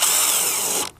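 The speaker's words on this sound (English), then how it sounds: "I'll probably put an extra couple of screws in along the side here" A power drill drives a screw into a 2x6 wooden rail box, one loud close whine lasting nearly a second before cutting off abruptly.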